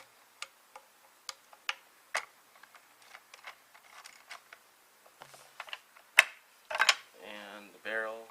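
A 5mm wrench loosening the barrel screws on a Blaser R8 rifle: soft, irregular ticks and small metallic clicks close up, ending in a few scraping rattles as parts shift, with no talk.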